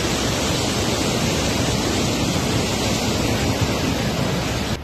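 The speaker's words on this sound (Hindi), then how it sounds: "कुल्लू से आई ये तस्वीर देखिए। पानी का शोर डराने वाला है।" Flooded river in Kullu during heavy monsoon rain, a loud, continuous roaring rush of water with no pauses and no voices.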